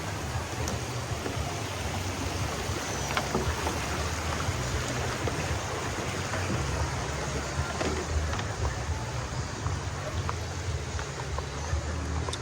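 A rural stream flows close by, its constant broadband rush and gurgle steady throughout, with a faint low rumble underneath.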